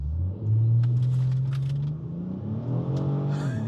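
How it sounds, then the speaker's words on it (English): A Ford Taurus SHO fitted with big turbos accelerates hard on a designated racetrack, its engine note rising into a loud, sustained roar that climbs in pitch, recorded from close by with no talking. "Oh, the turbos just spool up so quickly."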